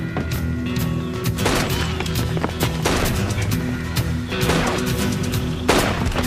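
A burst of several loud gunshots fired in quick irregular succession, sharp close cracks ringing over a dense background of music or noise, with no talk.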